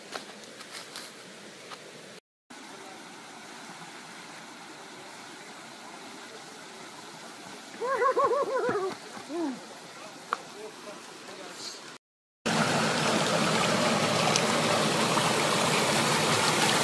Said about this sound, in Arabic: وقفنا هنا عند مجرى النهر وسط الغابة.